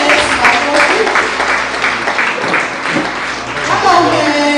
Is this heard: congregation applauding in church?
yes